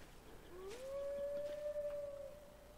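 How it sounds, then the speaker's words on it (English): A lone wolf howls in the survival video game Hold Your Own, one long steady rising tone that is faint and distant over a low ambient background, with no voices. "I don't like hearing wolves that I don't see."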